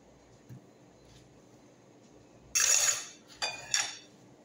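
A knife cuts through a frozen ice cream cake into cubes, a loud scraping crunch followed by two shorter sharp scrapes against a dish, close, in a quiet kitchen.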